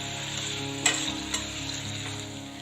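Eggplant sautéing over medium heat in a pan for kathirikai gothsu, a steady soft sizzle and frying hiss with a couple of brief clicks of stirring, no talk.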